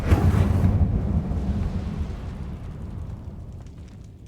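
An Incendio fire spell goes off in the video game Hogwarts Legacy with a loud, booming whoosh of flame that starts at full force and then rolls off into a long, fading rumble.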